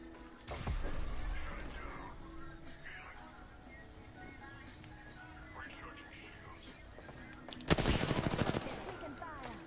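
Apex Legends gunfire, a burst of shots early and a sharp dense volley near the end, over a quiet low background bed.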